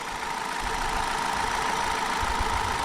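An Opel Zafira 1.6 car engine idles steadily with a constant hum and faint rattling, close by, with no talking.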